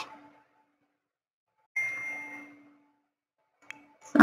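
A phone notification ding, a single clear chime fading out, followed by another short bright ping and a sharp sound right at the end, with silence in between.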